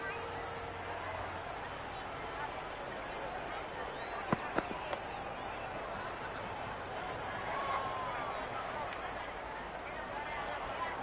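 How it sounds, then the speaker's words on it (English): Steady roar of a large cricket stadium crowd in the video game Cricket 26, a dense continuous murmur with a few sharp bangs near the middle and a brief whistle-like tone later. "The crowd are really getting quite raucous."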